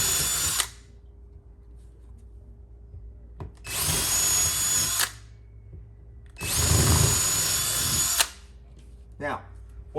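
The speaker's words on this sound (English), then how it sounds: "you're going to use the 1/2" drill bit." A power drill with a 1/2-inch bit whines through a wall in three separate bursts, the last one longest, with quiet pauses and faint handling noise between them.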